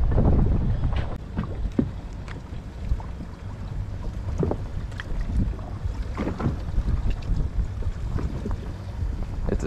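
Steady wind buffets a fishing boat on open water off Grand Isle, Louisiana during a speckled trout trip, a constant low rumble of gusts against the microphone with faint splashes and knocks, no talking.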